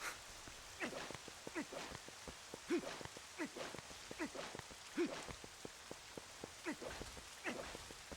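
Steady rain falls in the video game Zelda Twilight Princess, with quiet, continuous patter and scattered individual drops striking surfaces.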